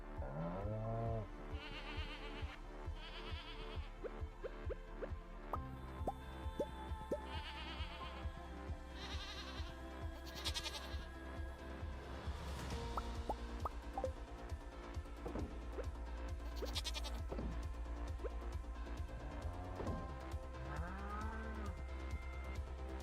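Goats and cows bleating and lowing in the farming game Stardew Valley, several short calls scattered over a chirpy, melodic game soundtrack.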